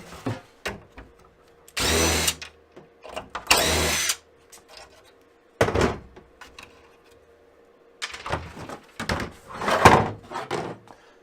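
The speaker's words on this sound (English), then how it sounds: "take off these two 10mm bolts, or excuse me, nuts in the back that hold the Ford emblem on." A power tool removes the two 10mm nuts holding the Ford emblem on an OBS Ford truck, with two loud whirring bursts followed by clunks, rattles and later shorter tool bursts nearby.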